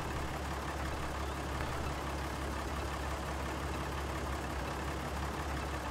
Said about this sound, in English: Sure the engine sounds different with CVT shifts.